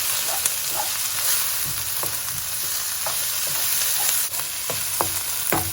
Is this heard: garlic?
yes